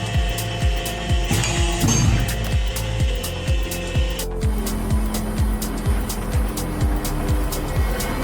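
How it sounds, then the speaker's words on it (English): A powerful hydraulic press machine bends a metal strip, its motor droning under a fast, regular train of mechanical thumps, loud and close, with a brief higher whine early on. "The metal strip is being precisely bent using a powerful hydraulic press machine."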